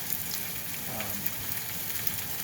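A steak fries in a pan with a soft, steady sizzle and light crackle, fairly quiet and continuous, with no talking.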